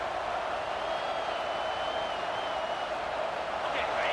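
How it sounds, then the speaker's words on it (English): Stadium crowd in the College Football 26 video game roars steadily as the home defense tries to hold in the red zone, a dense, continuous wash of cheering and applause that fills the whole span without a break. "The crowd getting behind this defense as they try to get a stop in the red zone."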